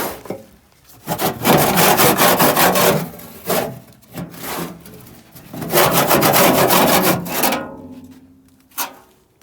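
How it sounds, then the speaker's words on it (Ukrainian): Repeated bursts of scraping and rubbing as loose sawdust is scooped and dumped with a simple homemade scoop, several rough strokes with short pauses between them, close and fairly loud. "Набираю його сюди і як черпаком туди"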